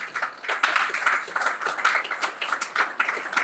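A church congregation claps in a steady, even rhythm, many hands together at moderate distance, with a few faint voices mixed into the clapping.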